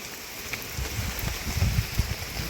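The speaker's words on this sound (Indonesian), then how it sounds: "Perasaan hujan mulu kalau ke gunung." Rain patters on a mountain hiking trail, a dense steady hiss with scattered heavier drops and soft thumps close by, continuous and fairly loud, without any voices.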